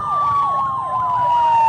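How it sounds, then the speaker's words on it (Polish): A fire engine siren set off with a pull cord during a town parade in Tarnowskie Góry: a loud, close, wailing tone rising and falling steadily over a long continuous whine, with no talking. "Teraz się syrenka tutaj odpaliła na sznurek."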